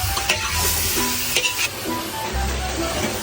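Vegetables frying and being stirred in a pan while a coconut-milk dish is cooked in a mansion kitchen, a steady close sizzle with scraping stir strokes and brief clatters.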